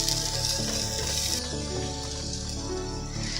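Onions frying in a pan for a chili cheese dog topping, a steady close sizzle with light stirring and scraping throughout, no voices.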